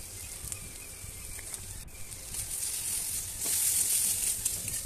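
Spices with salt and turmeric sizzle as they are sautéed in a pan for a small-fish curry, a steady moderate crackle with a faint scrape near the middle that grows louder toward the end, no voices.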